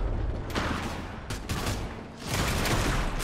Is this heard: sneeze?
no